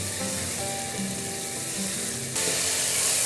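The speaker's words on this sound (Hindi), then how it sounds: "अब मैं इसमें साथ ही आलू शामिल कर दूंगी।" Potatoes frying in a pan for dhaba-style aloo gobi, a steady close sizzle with light stirring scrapes, growing louder and brighter near the end.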